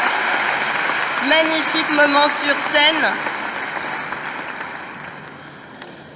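Audience applauding winners on stage at an International Women's Day ceremony in Mauritius. Dense, steady clapping fills the whole stretch while someone speaks in French over it midway, and the applause fades slightly toward the end.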